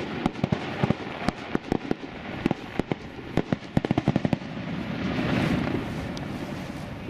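Fireworks explode over a lake at a 2019 show in Indiana, a rapid, loud string of sharp cracks and bangs that gives way to a rolling rumble mixed with wind noise.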